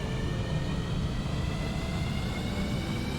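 A jet engine with its afterburner lit in the game Stormworks, a loud, continuous, even roar that holds steady throughout.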